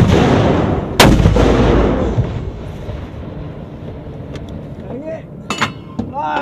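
120mm mortar rounds fired by a 64th Armor crew during a military exercise: a loud, sharp launch blast near the start with a rumbling tail, followed by faint clinks and distant voices.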